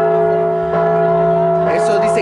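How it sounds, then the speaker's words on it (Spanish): Parish church bells in San Miguel de Allende ring with a steady sustained tone, loud and continuous, rich overtones filling the air, with some brighter clangs toward the end. "ya están sonando las campanas de la parroquia"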